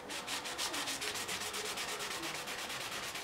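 Anodized scooter parts are rubbed to strip the finish, producing a fast, even back-and-forth scrubbing rasp, close and fairly quiet, with no talking.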